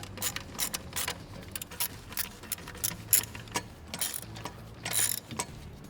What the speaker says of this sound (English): We do that by removing 3 8mm bolts, one here and 2 in the back.